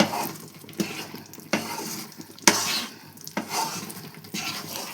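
Mysore pak mixture cooking with ghee in a pan is stirred, giving soft sizzling and frying under repeated scraping and knocks of the utensil against the metal, close and moderately quiet, with no talking.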